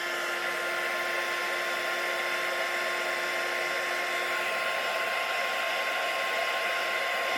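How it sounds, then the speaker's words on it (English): A heat gun melts embossing powder on a heart easel card, blowing a steady, loud, broadband hiss with a constant motor whine throughout, close and uninterrupted. "when you do the embossing powder, and when it then, you know, with your heat gun, it then takes shape"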